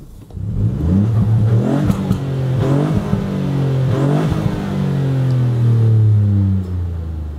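Ford Fiesta ST three-cylinder engine in sport mode revved hard while stationary, several loud close blips climbing and dropping, then a longer sustained high rev before settling back to idle.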